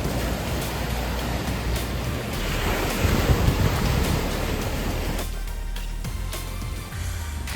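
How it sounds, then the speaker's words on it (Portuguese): Ocean waves wash in a continuous roar with gusts of wind buffeting the microphone, one surge swelling louder midway before easing off. "podemos recuperar as energias ao som das ondas"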